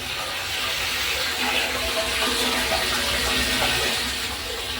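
Water from a deep well pump refill runs steadily on farmland in the Philippines, a constant hissing flow of moderate loudness with no clear pauses and no talking.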